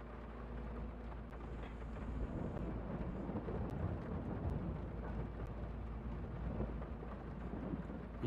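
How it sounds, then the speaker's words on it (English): Steady rain hisses with low rumbling thunder in a logging video game, a faint, continuous storm ambience without speech. "it's been raining pretty much the whole time"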